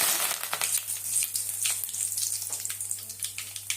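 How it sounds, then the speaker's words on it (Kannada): Mustard seeds, cumin and curry leaves frying in hot oil, a bright crackling sizzle with rapid popping throughout, close and steady over a low hum. "ಸಾಸಿವೆ ಕರ್ಬೇವಿನ ಸೊಪ್ಪು ಹಾಕ್ಬೇಕು"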